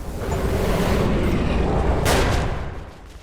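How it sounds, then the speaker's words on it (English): Heavy, booming explosions from explosives killing enemies in Metro 2033 roll out as a loud, sustained rumble with a sharper blast near the middle, then fade toward the end. "We used explosives to kill a total of 30 enemies for the Kaboom achievement."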